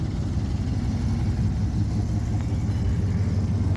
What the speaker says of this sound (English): Emma, start it up.